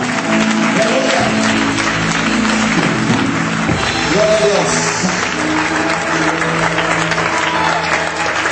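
Church congregation applauding in a steady, dense wash of clapping that fills the whole span, with a voice calling out briefly over it.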